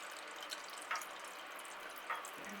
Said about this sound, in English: I've got no water left at the bottom of that vase at all. So we'll just top up now.